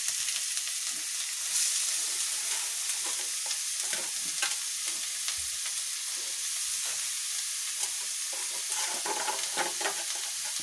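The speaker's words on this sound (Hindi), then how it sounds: "तो अब इसमें हम जा रहे हैं ये गाजर का कटा हुआ बारीकी चीज डालने" Finely chopped carrot being stirred in a hot pan for carrot halwa: a steady frying sizzle with scraping stir strokes, close and continuous, with no talking.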